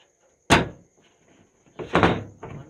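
A stuck door is shoved and rattled: one sharp, loud bang, a pause with faint knocks, then a longer burst of rattling thumps close by.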